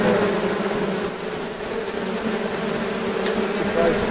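Honey bees in a large colony buzzing steadily around an opened beehive during an inspection, a dense, continuous hum close by with no talking.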